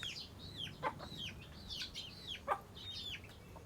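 Chickens in a backyard coop squawk and cluck in alarm, a string of shrill, rising and falling cries over low background noise, coming from a moderate distance.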